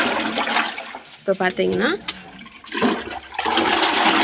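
Water gushes and splashes into a container to dilute organic fertilizer at a one-to-ten ratio for a home garden, a steady pouring rush with someone speaking over it.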